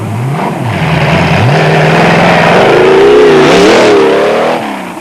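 A Raceco race car competing in the 1995 Toyota 1000 roars loudly and close, its engine revving and climbing through the gears in rising, continuous pitch sweeps before easing slightly at the end.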